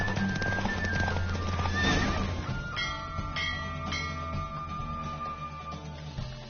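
A horse in the video game Witcher 3 gallops at speed, rapid hoofbeats drumming steadily throughout, with a loud neigh partway through against a dense backdrop of game sound and music.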